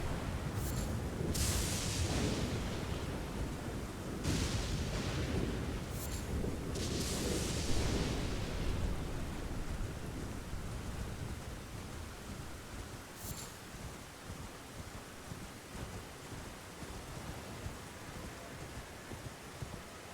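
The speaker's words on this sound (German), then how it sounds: "Oh mein Gott, ein Blitz." A stormy scene in the Elden Ring video game brings heavy rain and rumbling thunder, with several bright cracking lightning bursts early on and one more later as the steady downpour continues.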